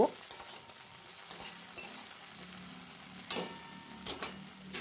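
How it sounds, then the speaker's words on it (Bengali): Quiet, faint scraping taps of stirring green peas in a pan, spaced irregularly over a soft background hiss of frying. "মটরশুঁটিগুলো দিয়েও কিন্তু একটু নাড়াচাড়া করব"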